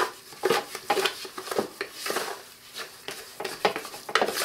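Thick aquascaping mortar-like material is worked and stirred in a container, giving repeated close scraping, rubbing and wet patting strokes in an uneven rhythm with brief pauses, no voices.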